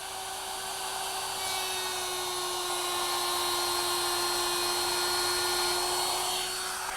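A router widening a groove in a wooden workpiece whines at a steady high pitch, loud and close, running continuously with a faint shift in tone as it cuts.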